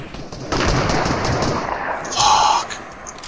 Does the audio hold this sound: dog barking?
no